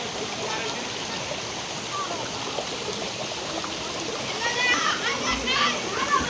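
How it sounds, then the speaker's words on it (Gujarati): Water streams down over rocks on a trek up the Barda hills near Ghumli, a steady broadband rush that swells slightly louder near the end, with voices, including a child's, faintly in the mix. "ઉપરથી પાણી આવે."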